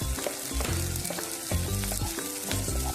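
Oyster mushrooms and sliced chili sizzle steadily in a hot pan, with a spatula scraping and clacking in an irregular stirring rhythm close by, no voices.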